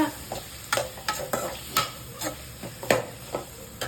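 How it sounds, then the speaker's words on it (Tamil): Tomatoes and onions sauté in a pan for a kara kuzhambu with brinjal, a steady sizzle broken by repeated sharp scrapes and clacks of stirring about twice a second, close and fairly loud, with no talking. "பாருங்கம்மா, தக்காளி வெங்காயம்லாம் நல்லா வதங்கிச்சுமா"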